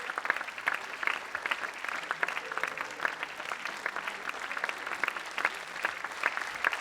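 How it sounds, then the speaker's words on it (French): Audience applause at a film festival screening in Angoulême, steady dense clapping from a crowd filling the hall throughout. "Applaudissez-le."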